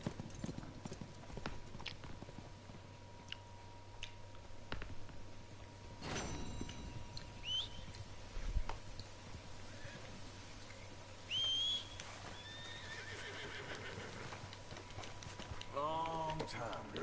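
Horse hooves clip-clop steadily through a Red Dead Redemption 2 scene on PS4, with a brief whinny and whistling, while characters talk over the game's ambient music.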